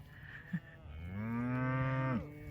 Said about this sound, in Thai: Look at the cow. They kind of walk toward Ryan.